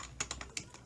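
Quick keystrokes on a computer keyboard, about five light clicks in fast succession, close and fairly soft.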